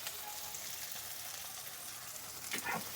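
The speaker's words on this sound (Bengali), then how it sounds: "তো মশলাটা কষিয়ে নেব।" A spice paste of turmeric, chili powder and salt fries quietly in a pan. A soft, continuous sizzling hiss is heard, with a brief louder stir or spatter near the end and no talking.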